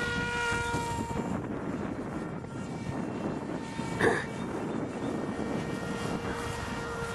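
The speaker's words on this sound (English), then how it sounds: "But the jet seems to cut through the wind really good" F-117 model jet with a big motor flying in gusty wind, a steady whining engine drone with wind rumble throughout and a brief louder swell midway.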